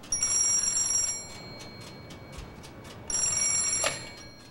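Old telephone ringing after a call is dialed through an automatic exchange, two long bursts of bright electric bell ringing separated by a pause, close and clear with no talk.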